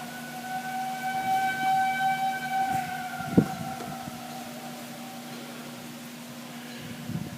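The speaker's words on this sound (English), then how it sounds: "Sirens are going off." Tornado warning sirens wail across Jackson, Missouri during a storm, a long steady rising and falling tone carrying from a distance over a rain-filled background, with a brief sharp knock midway.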